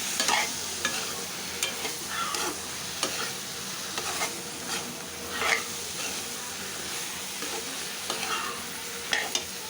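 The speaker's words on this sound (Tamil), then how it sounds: "நல்லா வதங்கட்டும், பச்சை வாசனை போகட்டும்." Eggplant and raw plantain sautéing in a pan, a steady soft sizzle with frequent scraping stir strokes of a spatula, close and continuous with no voices.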